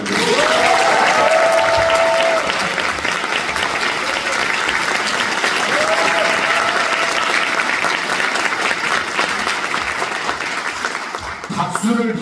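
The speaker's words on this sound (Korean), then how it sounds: "큰 박수 부탁드립니다" Sustained, dense applause from an audience at a seminar in the National Assembly, loud and steady for over ten seconds, with a voice briefly speaking over the clapping.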